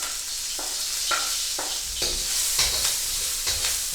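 Onion and garlic stir-frying in light olive oil for pancit bihon, a steady high hiss of sizzle broken by several short scraping stirs of a utensil against the pan, close and fairly loud throughout with no talking.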